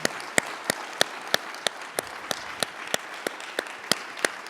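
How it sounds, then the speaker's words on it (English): Applause at an aviation forum plenary session, a sparse, moderately faint patter of hand claps with a few sharp, evenly spaced claps standing out above the rest. "Let's give Dan a round of applause."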